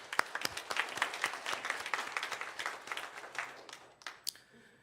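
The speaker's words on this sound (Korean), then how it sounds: "우리 부활하신 하나님께 영광의 박수를 드리겠습니다." A church congregation at an Easter dawn candlelight service gives a round of clapping, crisp and fairly close, thinning into scattered claps before stopping.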